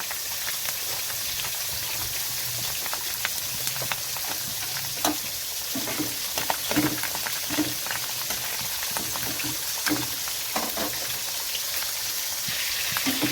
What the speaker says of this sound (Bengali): এখানে আদা রসুনটা দেখুন ভালো মতো ভাজা হয়েছে, কালারও চলে এসেছে